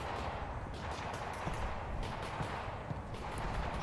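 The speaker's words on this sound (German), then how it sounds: "Irgendwo wird hier geschossen." Gunfire in the video game Half-Life: Alyx, a dense continuous rattle of shots that stays faint and distant for the whole stretch.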